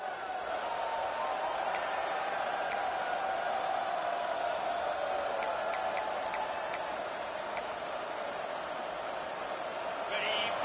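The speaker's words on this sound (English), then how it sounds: "This crowd bringing an ear-splitting welcome to their visitors." Stadium crowd in the College Football 26 video game, a continuous loud roar of cheering with faint ticking clicks scattered through, steady throughout.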